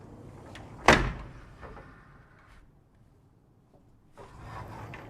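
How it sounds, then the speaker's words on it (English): A sliding door on a city apartment balcony opens with one loud sharp clack and rumble near the start, followed by quieter rolling and faint room noise. "Here, there are 4 sliding doors here. Okay, let me go in."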